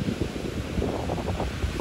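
Big ocean waves on a rough day too stormy for fishermen to go out, a continuous roaring surf wash mixed with strong wind noise on the microphone, close and loud without a break.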